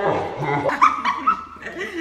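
A dog yelps and whimpers in short, high cries after being stepped on, close by and mixed with people's voices and a chuckle.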